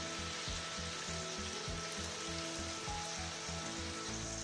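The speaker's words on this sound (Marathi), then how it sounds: "अशा करंज आपण तळून घेऊया।" Semolina karanji deep-frying in hot oil, a dense, even bubbling sizzle that holds steady and close for the whole stretch, with no voices.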